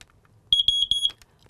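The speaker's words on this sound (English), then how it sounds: "I need to test it to make certain that it works. We need to test our smoke alarms once a month." Smoke alarm under test, sounding a loud, shrill electronic beep in about five rapid pulses close by, with a little room noise around it and no one speaking.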